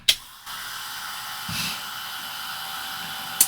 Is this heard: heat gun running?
yes